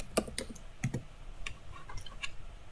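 Several crisp computer mouse clicks spaced irregularly, sharp and close, made while working in Effect House software.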